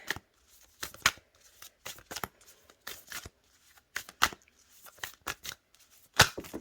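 A Moonology oracle card deck is shuffled by hand in quick riffling bursts, close and crisp, with short pauses between runs of flapping cards.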